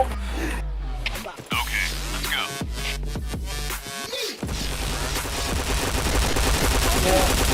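Rapid bursts of video-game gunfire crackle loud and close, dense automatic volleys broken by short gaps, with a steady game soundtrack running underneath.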